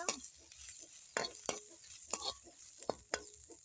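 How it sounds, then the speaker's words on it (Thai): Aromatic herbs stir-fried in a little lard for a Thai-style rattan curry, with a steady sizzle broken by sharp scraping strokes of a spatula against the pan, close and clear with no talk. "เอาเครื่องหอมลงไปขัวขัวให้มันหอมพี่น้อง ใส่น้ำมันหมูเล็กหน่อย"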